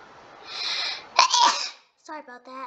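A person sneezes once, a sharp loud burst after a breathy intake, and a short stretch of speech follows.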